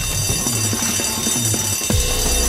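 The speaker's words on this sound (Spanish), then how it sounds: "Genial, verga, la alarma." A heist alarm in the video game PAYDAY: The Heist rings continuously and loudly at a steady level, layered over busy game sounds and music throughout.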